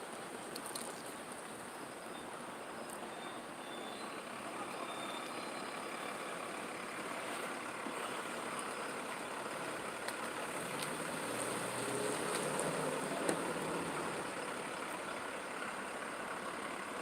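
A command vehicle truck arrives, its engine rumbling steadily at moderate distance with faint intermittent reversing beeps over a constant broad traffic-like background.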